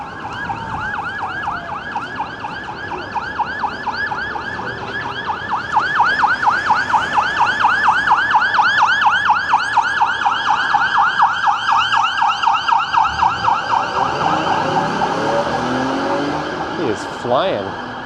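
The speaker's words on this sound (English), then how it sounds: "We got sirens coming down." A police car siren passing along a downtown Toronto city street, its loud wailing sweeps rising and peaking close by, then trailing off over steady traffic rumble.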